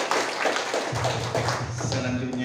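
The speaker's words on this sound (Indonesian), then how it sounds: "Coba beri tepuk tangan dulu dengan Pak Zaluku." An audience at a community declaration event applauds with steady, dense clapping close to the microphone, while a speaker's voice briefly sounds over it.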